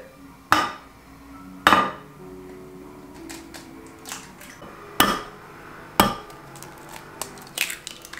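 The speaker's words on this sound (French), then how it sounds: "je vais déjà casser mes œufs" Eggs being cracked against a hard edge: four sharp, close knocks in two pairs, with lighter clinks and taps of the bowl between them.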